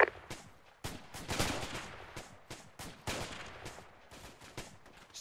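Rapid gunfire from the military game Arma 2 rings out as repeated sharp shots and bursts, some close and loud, others fainter and echoing, in an irregular exchange with no speech.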